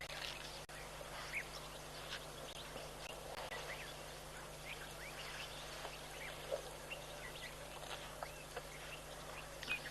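Ducks and other waterfowl quack faintly and intermittently at a waterhole, with scattered calls over a quiet outdoor background and a low steady hum.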